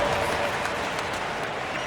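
A crowd applauds steadily in the NBA 2K25 basketball video game on PS5, Celtics vs Bucks, a dense wash of clapping and cheering from an arena audience at moderate distance, with no clear voices over it.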